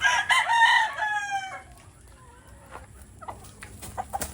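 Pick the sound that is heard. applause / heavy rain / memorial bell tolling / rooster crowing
rooster crowing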